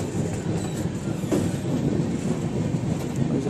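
A premium long-distance train rolls along on the way from Kolkata to Pune, a loud continuous rumble with rhythmic clickety-clack of wheels on rails, heard from inside the carriage without talk.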